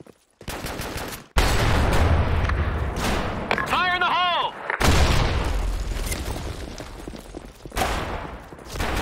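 In the shooter game Blackshot, grenade explosions land as several loud, sharp booms, spread out among bursts of gunfire and short mechanical effects, with some voice sounds mixed in.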